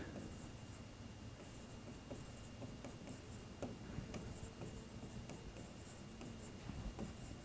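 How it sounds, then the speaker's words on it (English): Pen or marker writing by hand on a board during a sociology lecture, a soft continuous scratching with small ticks, fairly quiet, with no speech over it. "So I'll just write it down."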